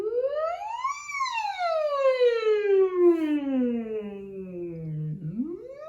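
A trained singer's voice slides smoothly up and then slowly down in a long siren-like glide, ending with a quick upward swoop, clear and alone in a quiet room; the voice imitates a siren.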